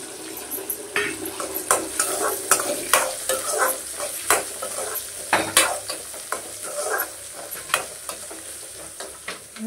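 Garlic, curry leaves, dried chilli and onion fry in hot oil for a dry fish fry, a steady sizzle broken by repeated stirring scrapes and clicks of a utensil against the pan.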